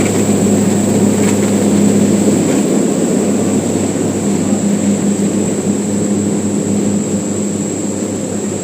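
Steady loud drone of an airliner cabin in flight on a hop between Coron, Palawan and Manila via Cebu, a constant engine roar with a humming tone and no talk.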